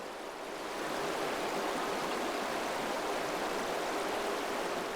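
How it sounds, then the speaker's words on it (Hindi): A Himalayan river rushes over slippery rocks, making a steady, broadband roar of flowing water that holds constant and fairly close throughout, with no voices. "नदियों का बहाव कभी कभी रौद्र रूप ले लेता है और उनका वेग बढ़ जाता है।"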